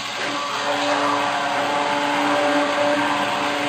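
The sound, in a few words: blender motor mixing soap batter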